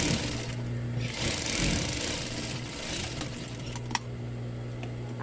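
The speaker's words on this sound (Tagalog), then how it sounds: "Tapos tatahiin natin siya dito." A sewing machine stitches fabric for a child's dress, giving a close, rapid mechanical whirring and clatter in short bursts with brief pauses between runs.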